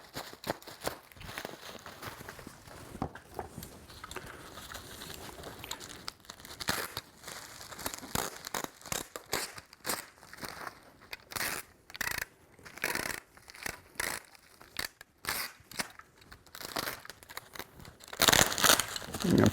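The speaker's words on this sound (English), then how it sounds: "I'm going to put a little tape over the top of it so when we slide it down the box it doesn't slip" Bubble wrap around an item for shipping crinkles and crackles steadily as it is handled and taped, with irregular bursts of rustling that grow louder toward the end and include a harsher tearing rasp.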